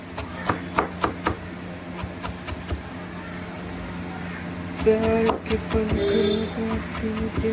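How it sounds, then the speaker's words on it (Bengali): Beans and carrots being finely chopped with a knife on a board, a quick run of sharp, evenly spaced knocks early on, followed by quieter kitchen clatter and a steady low background hum. "কেটে নিয়ে ছোটো ছোটো করে কুচি কুচি করে দেবে"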